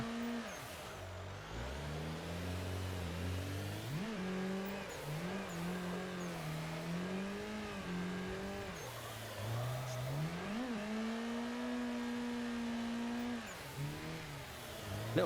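Simulated car engine in the Assetto Corsa racing game revving and bouncing off the limiter during drifting, its pitch swooping up and down repeatedly over a long stretch with no talk.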